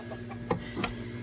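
Roosters sharing a combined bungalow coop and pen, giving two brief soft clucks close by over a steady faint background hum.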